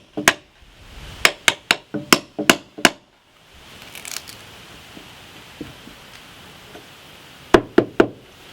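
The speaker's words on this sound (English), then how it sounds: "I'll use a cat's paw to remove the nails" A quick run of sharp, hard knocks as a cat's paw pry bar is struck into wood to pull nails from old barn bracing, a pause with faint scraping, then three more close taps.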